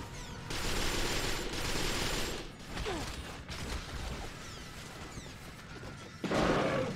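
Rapid gunfire bursts crackle through a PlayStation shooter game, loud bursts separated by short pauses with mechanical clatter between them and no talking.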